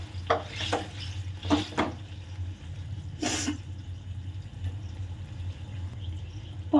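Pieces of pointed gourd tipped into a pan of simmering spicy oil-based gravy, then stirred with a few sharp clanks of a spoon against the pan, a soft bubbling sizzle underneath and a brief scraping burst midway.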